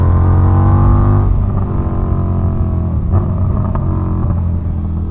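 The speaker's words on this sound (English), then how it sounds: "when you decat these motorcycles, my God, do they scream" A loud decatted FTR1200 motorcycle engine screams at high revs, holding a harsh whine, then dropping and blipping back up several times, raw and close.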